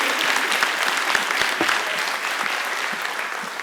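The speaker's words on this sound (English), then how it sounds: "can we have one big round of applause for Hester Bell, the Rector of the Universit" A hall audience gives a university rector a hearty round of applause, many hands clapping densely and steadily without any talking.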